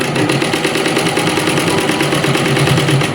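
Sewing machine stitching trouser lining, a loud continuous rapid mechanical whirr with fast even needle clatter, close up and steady throughout.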